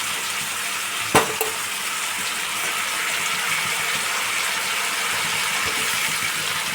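Reserved boiling water from boiled potatoes, papaya and chickpeas is poured into a papaya curry in the pan, a steady close hiss and splash running throughout after a sharp knock near the start.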